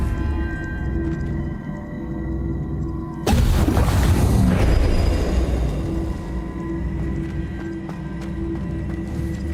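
A Descendo spell cast in Hogwarts Legacy lands as a sudden loud booming crash that rumbles and fades over several seconds against a steady game ambience.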